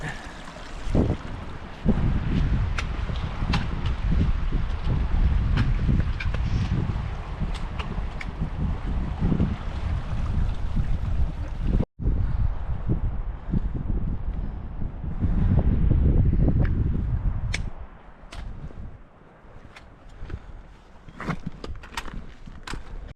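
Strong wind buffets the microphone in a steady roaring rush, easing briefly partway through, with gusty low rumble throughout, on a mountain trail near Jackass Pass and the Cirque of the Towers.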